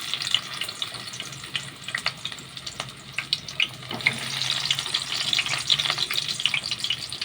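Chopped onion, one large onion for a fish dish, hits hot oil in a kadai wok and sizzles with a dense, steady crackle and spatter throughout, fairly close, with no talking.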